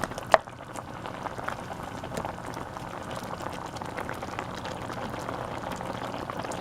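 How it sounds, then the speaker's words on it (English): Beef chili with rehydrated freeze-dried beef, no beans, bubbling gently in a pot turned down to a low simmer; a steady soft hiss and popping runs throughout, with one sharper clink near the start and no talking. "we're going to turn this down to low and let it simmer for at least 15 minutes"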